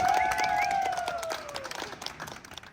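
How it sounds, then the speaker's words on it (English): First responders clap and cheer in a standing ovation for a boy recovering from campfire burns; dense, steady applause from a sizeable crowd fills the clip, with whistle-like tones rising early and the clapping thinning toward the end. "It's not every day you get a standing ovation from first responders"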